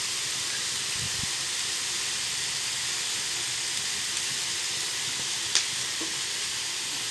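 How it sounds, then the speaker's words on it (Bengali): Cooking oil going into a karahi wok set over a clay stove, a steady soft sizzling hiss running throughout with a few faint stirring clicks and one brief sharp tick near the end. "এবার কড়াইতে দিয়ে দিচ্ছি তেল"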